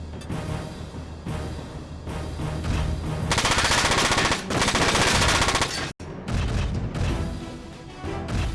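Gunfire in the PS2 video game Front Mission 4: dense, sustained machine-gun bursts with heavy booming impacts, loud and continuous, broken by one brief cut before the firing resumes.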